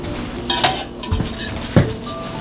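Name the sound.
bundt pan being handled and set down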